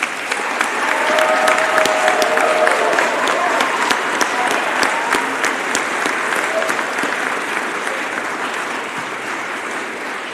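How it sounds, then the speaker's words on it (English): Audience applause at a physical therapy white coat ceremony, a sustained round of dense clapping from a large crowd with a few sharp individual claps standing out, slowly fading toward the end. "Let's give them one more round of applause, please."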